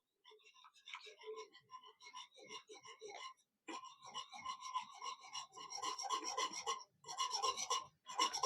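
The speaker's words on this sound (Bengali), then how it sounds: "প্রথমে একটা হুইস্ক দিয়ে ভালো করে মিশিয়ে নেব।" A whisk mixes rice paste with powdered milk for a pitha, making rapid, rhythmic scraping strokes against the bowl, close up, growing quicker and more insistent as it goes, with only brief pauses.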